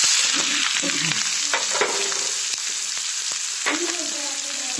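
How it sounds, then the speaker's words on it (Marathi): A spinach and potato vada mixture sizzles as it roasts in a pan, with loud, close frying crackle and a few scrapes of stirring against the pan. No voices are heard. "आता ह्याला चांगलं भाजून घेते."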